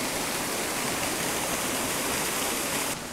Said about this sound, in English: you can probably hear it by now. We're at this waterfall that I've been to before